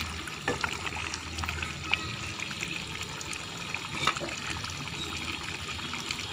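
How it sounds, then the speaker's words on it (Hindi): Water pours into a pot of mutton and potato masala cooked in ghee for shorba, a soft continuous trickle and splash at close range, fairly quiet and steady with a few small clinks. "अब इस स्टेज के ऊपर इसमें पानी डाल देंगे।"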